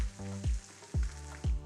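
Soft, steady sizzling of butter with tofu and mushroom sisig in a hot pan, with a few low knocks and taps as food is moved around.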